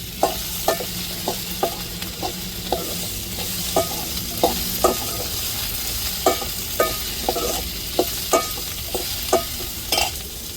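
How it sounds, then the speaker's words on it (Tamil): Okra sautéing in oil in a pan for tamarind kuzhambu, a close, steady sizzle punctuated by regular clicking scrapes of a spoon stirring against the pan, with no voices. "வெண்டைக்காவை எண்ணெயிலேயே வதக்கணும்"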